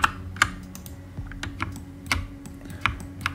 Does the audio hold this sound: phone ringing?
no